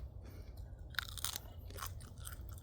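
Fresh garden okra chewed up close, with a few crisp crunching bites over soft mouth noise, quiet and with no talking.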